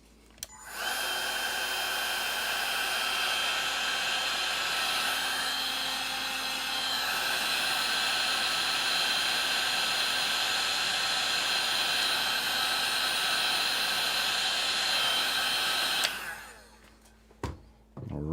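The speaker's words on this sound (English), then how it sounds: "Heat shrink engaged." A heat gun blows hot air onto heat shrink tubing over wiring, a loud steady whooshing roar that runs unbroken for about sixteen seconds before cutting off abruptly, followed by a few faint clicks.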